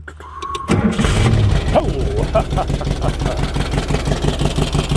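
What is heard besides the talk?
rebuilt 1974 Karmann Ghia 1641 cc engine starting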